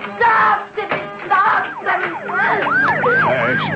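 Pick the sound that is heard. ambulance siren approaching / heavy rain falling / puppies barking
ambulance siren approaching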